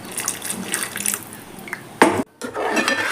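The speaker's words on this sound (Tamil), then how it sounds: "கொஞ்சம் தண்ணி ஆட் பண்ணிக்கலாம்." Water is poured into a cooking pan of blended tomato paste, a short close splash and trickle over soft kitchen clatter, followed by a brief quiet gap and faint sizzling.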